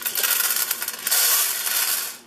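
Dry popcorn kernels poured into a Cuisinart EasyPop popcorn maker, a steady hissing, rattling patter of many small hard kernels that swells into a denser rush midway and ends with a brief clatter, with no talking.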